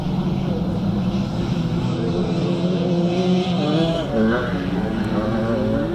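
A 1980 250cc Maico motorcycle racing over a hilly classic scramble track, its engine whining and revving with rising and falling pitch, blended with other bikes and a commentator talking over it.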